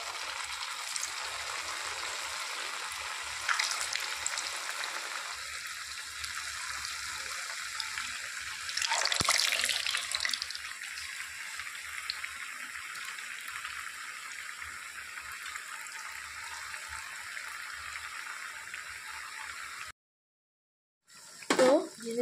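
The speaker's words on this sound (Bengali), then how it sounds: "তেল পুরো গরম হয়ে গেছে, এখন আমি এক এক করে জিলিপিগুলো দিয়ে দিচ্ছি" Semolina jalebis frying in fully heated oil, a steady low hiss with a brief louder sizzling surge near the middle, then a short silence and a final clatter.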